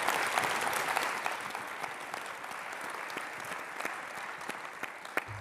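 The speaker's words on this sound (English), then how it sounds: "Can we please give them another big round of applause?" A conference audience claps for a panel, steady dense applause that tapers slightly, with a few sharper claps standing out near the end.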